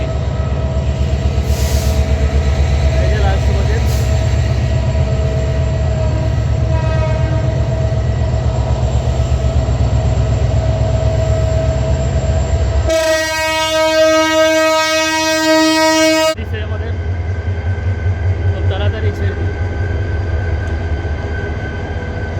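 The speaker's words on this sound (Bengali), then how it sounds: "এটা হচ্ছে সোনার বাংলা এক্সপ্রেস।" The Sonar Bangla Express rumbles steadily with rhythmic wheel clatter before its horn blasts loud and sustained for a few seconds, then the rolling noise carries on.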